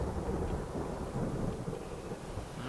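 A deep, steady roll of thunder rumbles from lightning in a video game tornado mod, a dense low wash of sound that holds throughout without speech.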